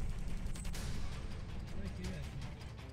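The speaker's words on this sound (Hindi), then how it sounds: "व्यस्त सड़क पर दौड़ रही गाड़ियों के बीच अचानक एक जोरदार धमाका होता है।" A loud blast on a busy road in Kyiv during a bombardment comes as a sharp, heavy crash over broadband traffic rumble, followed by a dense, sustained roar with low-end weight, and speech heard faintly in the mix.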